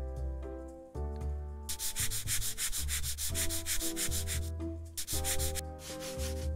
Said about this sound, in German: Und dann schleifen wir den ganzen Spaß mal ab hier.